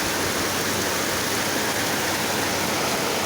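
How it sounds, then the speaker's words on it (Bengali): Heavy rain pours down on a work site where digging machines and pipes stand getting soaked, making a loud, unbroken broadband hiss of falling water with no voices. "খুব ভালো লাগতেছে বৃষ্টি।"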